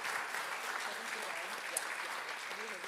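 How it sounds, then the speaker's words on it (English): Soft, fairly distant audience applause after a church presentation on Alzheimer's and dementia, a steady low wash of clapping that runs for about three seconds without letup. "So let's give them a round of applause."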